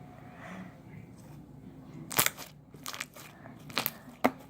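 Crunchy slime squeezed by hand, giving several sharp, close crackling crunches in irregular bursts over a quiet background.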